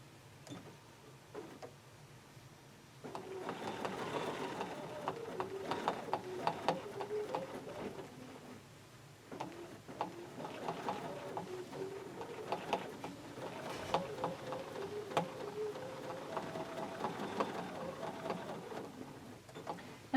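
A sewing machine quilting fabric blocks whirs in steady, moderately quiet runs, pausing briefly and restarting, with light mechanical rattling as the fabric is guided.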